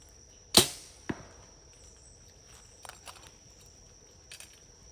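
Arrow released toward a 3D archery bear foam target: a sharp nearby thwack from the bow, then a second impact a half second later, followed by faint scattered rustles and clicks in an otherwise quiet outdoor setting.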